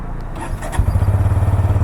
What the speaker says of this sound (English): let's also hear out the exhaust note.